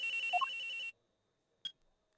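A video game phone rings in Ace Attorney Investigations 2, a short electronic ringtone burst with a brief melodic trill, then silence and one more short chirp.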